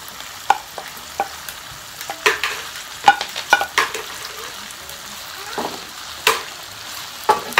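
Ingredients for Jamaican salt mackerel, including scallion, tomato, thyme and garlic, go into a pot and fry with a soft sizzle, broken by scattered clinks and stirring taps at close range, and no talk.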